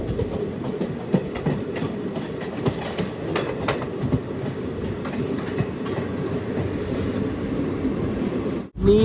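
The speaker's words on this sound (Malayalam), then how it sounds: "199 കിലോമീറ്റർ യാത്ര ചെയ്ത് ട്രെയിൻ ഇത് കുറ്റിപ്പുറം റെയിൽവേ സ്റ്റേഷനിലേക്ക് എത്തുകയാണ്" A passenger train rolls into Kuttippuram railway station, heard from on board as a steady rumble with rhythmic clickety-clack of wheels over rail joints and faint squeals, ending in a brief break.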